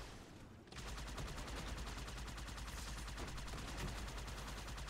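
Sustained automatic cover fire in the shooter Halo 2, a dense, even stream of rapid shots that starts abruptly after a brief quiet moment and keeps rattling loudly for several seconds.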